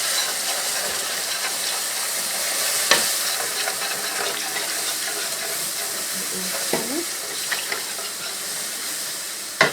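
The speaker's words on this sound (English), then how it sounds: "now this is 2 cups of whole milk, and I'm going to add slowly" Whole milk poured slowly into a hot pan where pork chop drippings sizzle, making a continuous hiss and bubbling, with a few scraping clinks of a utensil stirring close by.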